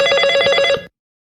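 A telephone rings once during a call, a steady electronic bell tone lasting under a second, loud and alone before cutting off to silence.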